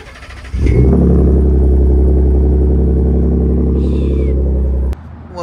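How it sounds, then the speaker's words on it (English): A roofing foreman's truck cold-starts: after a brief crank the engine catches abruptly and settles into a loud, steady idle for about four seconds, close to the microphone, then cuts off sharply. "Here's a cold start."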